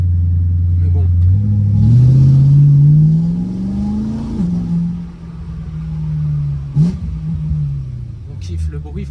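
A BMW M3 E92 engine revs up loudly and close by, its pitch climbing over a couple of seconds before easing back to a steadier rumble, with a brief sharp blip near the end.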